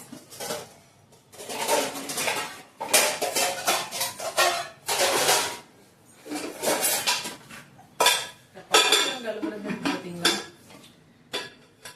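Dishes, pots and pans clatter and clink repeatedly in bursts as they are washed, with scraping and rinsing between, close and fairly loud, no voices.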